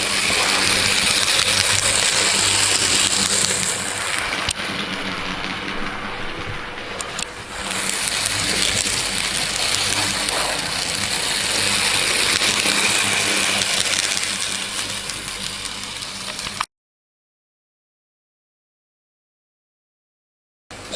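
A Bachmann BR 5600 Class model locomotive runs steadily, a loud continuous mechanical whir and rumble with a brief dip partway through, then cuts off abruptly into silence near the end.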